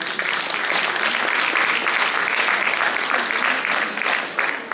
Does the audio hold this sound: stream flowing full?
no